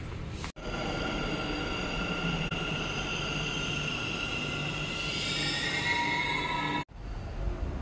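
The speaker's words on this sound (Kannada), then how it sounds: "ಮೆಟ್ರೋದಲ್ಲಿ ಬಂದು ನಾವು MG ರೋಡಲ್ಲಿ ಇಳಿದೆವು." A metro train ride toward MG Road in Bangalore, heard from inside the carriage as a steady loud rumble of wheels and motor with rising high whine, briefly cut at both ends, with no talk.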